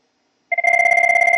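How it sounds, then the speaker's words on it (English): A phone rings loudly and up close for an incoming Webex conference call, a steady electronic ringtone that starts abruptly and repeats in an even pulsing rhythm. "my phone's going to ring here in a second"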